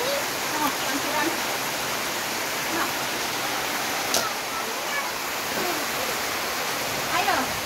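Water pouring steadily from a spout during rain, a constant rushing splash close by, with a voice and other talk heard faintly over it.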